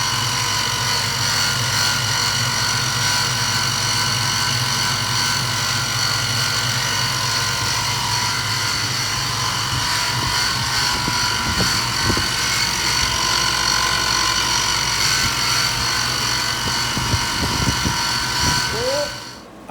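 A Grizzly mini mill runs at its highest speed, producing a loud, steady mechanical whine and hum that holds constant for nearly twenty seconds before cutting off abruptly at the end.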